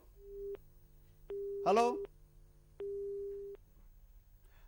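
A telephone busy tone sounds after a dropped call-in connection during a TV discussion program: three long, steady beeps separated by pauses. A voice briefly speaks over the second beep.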